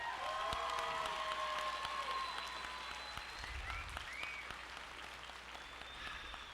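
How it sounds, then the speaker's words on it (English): A crowd at a 2022 high school graduation applauds the graduates with steady, moderately distant clapping, along with a few faint whistles and cheers. "How about one more round of applause for them?"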